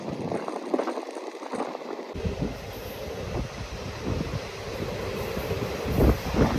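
A Shoranur–Coimbatore passenger train runs through the Western Ghats, heard from on board as a loud, continuous rumble of wheels on rails with rhythmic clatter, and no talking.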